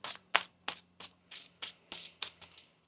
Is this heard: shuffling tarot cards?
yes